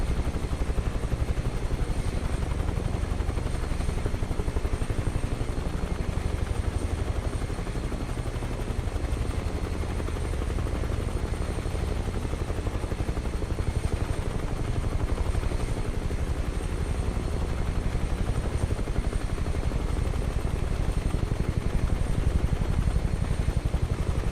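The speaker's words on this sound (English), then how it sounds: "The wave action on the ground below the helicopter is the exhaust from the jet turbine" A UH-1 Huey helicopter in flight gives a loud, continuous jet turbine and rotor drone, a dense low rumble with a high whine on top, holding steady throughout with no talking.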